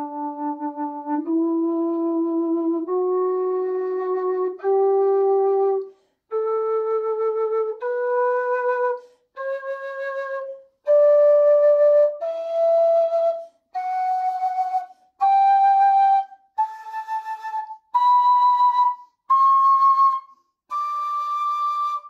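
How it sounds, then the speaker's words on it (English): LIR low D tin whistle played slowly up its scale, one sustained breathy note after another with short gaps, rising step by step in pitch, clear and close with no talking. "I'm going to do a slow playthrough now so we can get an idea of how in tune this whistle is"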